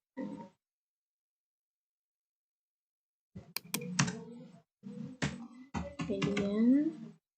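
Computer keyboard keys are pressed in short bursts of clicks and taps, ending with the Enter key, close and clear, while a person speaks over the typing.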